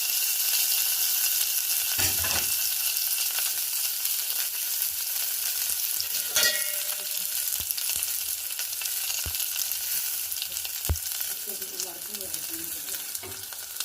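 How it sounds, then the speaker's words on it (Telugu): A tempering of asafoetida and curry leaves for tomato rasam sizzles and fries steadily in hot oil over a low flame, with a ladle stirring through it and occasional scrapes and clicks against the pan. "ఒక 10 రెబ్బలు కరివేపాకు కూడా ఈ పోపులోకి యాడ్ చేసుకొని గరిటెతో మంచిగా మాడకుండా ఇలా తిప్పుకోవాలండి"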